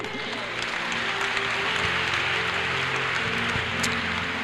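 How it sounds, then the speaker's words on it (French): Church congregation clapping, a dense continuous patter of many hands with a low hum and faint voices mixed in underneath, steady level throughout. "Les applaudissements là."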